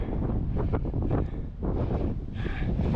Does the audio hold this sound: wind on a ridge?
yes